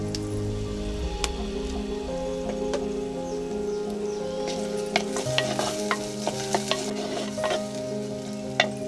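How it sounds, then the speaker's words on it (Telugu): Onions fry in a pan in preparation for a traditional tribal bamboo shoot dish, a steady close sizzle broken by frequent scraping and stirring clicks, with no talking. "ఉల్లిపాయలు వేగిన తర్వాత ఈ వెదురు కొమ్ముల్ని వేసేసుకుందాం"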